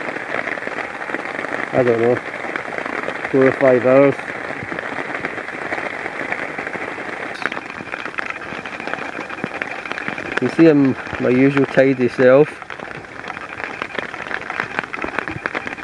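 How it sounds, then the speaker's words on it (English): Heavy torrential rain patters constantly on a tarp over a hammock at a woodland wild camp, a close, dense hiss throughout while someone talks intermittently over it. "basically been torrential rain all day or all morning"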